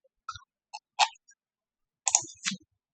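Sharp computer mouse clicks in quick pairs, each double-click crisp and close, with short silent gaps between them while someone sets up a Verilog design at a desktop.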